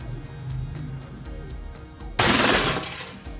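A WE Glock 26 gas blowback airsoft pistol fires a single loud, sharp shot close by after a quiet stretch, its crack followed by a brief rattling tail.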